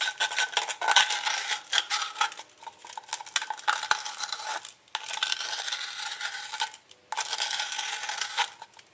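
Someone sands the cut edges of an aluminum can with 80-grit sandpaper in a run of rhythmic, close, gritty rasping strokes, with short pauses between bursts.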